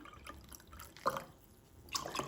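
Soft trickling and dripping of cold water into a glass of orange drink with soda and ice cubes, with a couple of brief louder splashes, fairly close and quiet overall.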